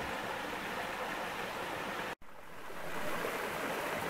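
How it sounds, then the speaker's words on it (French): A forest stream in the Ardennes rushes steadily, fed by water held back upstream, a continuous close broadband gurgle and hiss with a brief dropout midway and no talk. "ici, ça coule un, peu plus parce qu'il y a, il y a des retenues d'eau un peu plus haut"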